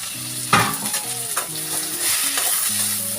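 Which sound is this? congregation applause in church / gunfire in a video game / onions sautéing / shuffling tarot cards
onions sautéing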